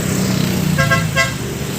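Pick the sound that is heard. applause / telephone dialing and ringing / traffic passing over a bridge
traffic passing over a bridge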